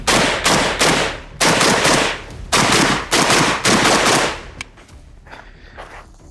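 An AK rifle fitted with a muzzle brake fires a rapid string of loud, sharp shots in quick bursts, then falls quiet as a short echo fades.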